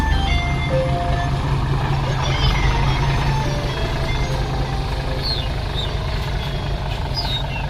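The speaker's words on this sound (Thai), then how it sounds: "ฮิโน่โดมิเนเตอร์500 ครับ จัดราวไฟสามชั้นเลย" A Hino Dominator 500 dump truck's diesel engine idles loudly and steadily at a quarry pit, with a low rumbling drone and faint higher beeps in the background.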